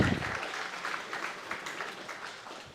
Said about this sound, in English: can we have a big round of applause for all of our sponsors as well?